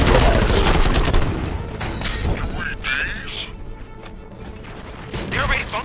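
Rapid bursts of gunfire from the Robocop video game, played on extreme difficulty, loud and dense at the start, then thinning into scattered cracks and thuds before swelling again, with a voice speaking over it.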